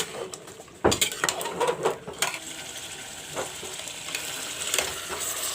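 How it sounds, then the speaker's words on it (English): Mutton and masala sizzle and fry in a pan while a utensil scrapes and clinks against the metal in irregular bursts. "Now the mutton also and the masala also is frying well."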